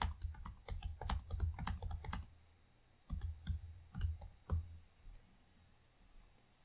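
Someone types on a computer keyboard in bursts of quick clicking keystrokes, a busy flurry, a pause, then a few more scattered presses, close and fairly quiet with no talk.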